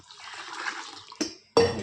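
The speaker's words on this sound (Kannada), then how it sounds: "ಇಷ್ಟು ನೀರು ಹಾಕಿ ನಾನು ಕ್ಲೀನಾಗಿ ಇವಾಗ ನೆನೆಸಿಕ್ತಾ ಇದ್ದೀನಿ" Water poured over flattened rice (poha) to wash and soak it in a home kitchen, heard as a steady close splashing pour followed by two short, louder gushes.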